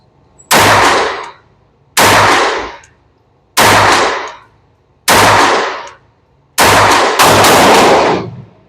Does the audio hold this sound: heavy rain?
no